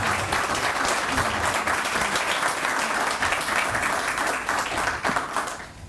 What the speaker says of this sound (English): Claudine and her team deserve a huge round of applause